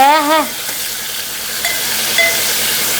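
Drumstick pieces (moringa pods) fry in a little oil with salt, a steady close sizzle and hiss running throughout after a brief tonal sound at the start, with no talking.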